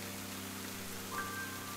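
Steady rain falls as a soft, even hiss in the game Ender Lilies: Quietus of the Knights, with a low tonal hum beneath it and a faint brief chime near the end.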